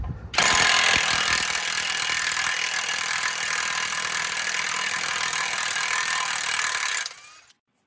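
An Alloyman 1/2-inch impact gun hammers loose a torqued bolt at full force, a loud, close, continuous rattling burst lasting about seven seconds before cutting off abruptly.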